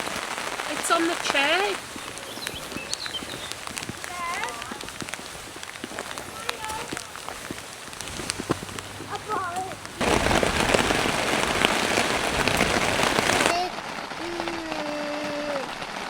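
Rain patters steadily on a Vango tent in Fine Shades wood, a dense, even crackle that swells louder for a few seconds midway, with birdsong and brief voices in the background.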